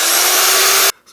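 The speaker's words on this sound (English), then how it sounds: "time to grind some rust off" Power drill fitted with a wire brush grinding rust off a brake line on a 2008 Subaru Outback XT: a loud, steady whirring grind that stops abruptly near the end, leaving quiet.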